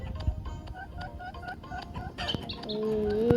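A video game chicken clucks in short repeated calls over a steady background, followed by a rising electronic tone and a sharp click.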